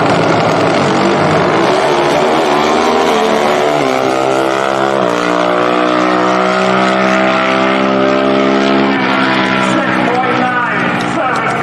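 Pro Stock drag racing motorcycles at an NHRA event roar down the strip, a loud sustained engine howl rising in pitch through the gears, with a crowd and announcer-style talk mixed underneath.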